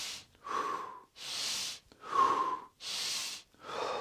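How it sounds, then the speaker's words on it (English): Deep, rapid tummo breathing, with strong inhales and exhales alternating in a steady rhythm. About six forceful breaths come close and loud, with airy rushes and a slight nasal edge, and there is no talking. "Okay, inhale, exhale. And go, 20 breaths."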